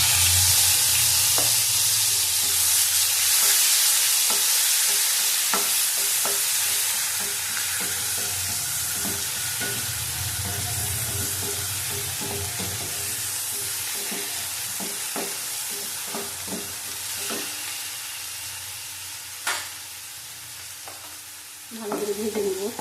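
Onion paste sizzles steadily in hot oil in a pan while a spatula scrapes and stirs it in repeated clicks and knocks, loud and close, for a fish curry.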